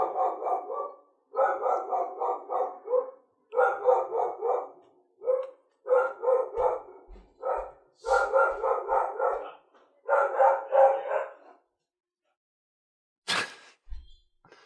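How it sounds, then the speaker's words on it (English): A dog barks loudly and insistently in repeated bursts of rapid barks, separated by short pauses, close and clear with little else around. "I'm amazed at how loud that barking was"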